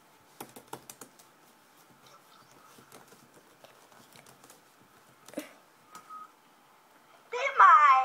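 Keys on a computer keyboard are typed in short bursts of clicks, fairly close and moderately loud, with a voice speaking near the end.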